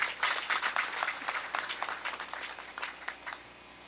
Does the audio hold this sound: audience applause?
yes